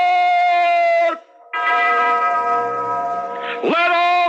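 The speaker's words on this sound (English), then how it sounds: "Ring the alarm bell!" A loud clanging alarm bell rings as a radio drama effect, sustained metallic tones with a brief break, then ringing resumes and swells near the end.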